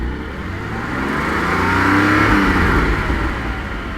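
A Porsche Cayman GT4 718 with modified exhaust revs up to around 4,000 RPM, its engine note swelling steadily and holding loud and close before easing slightly, with no talking over it.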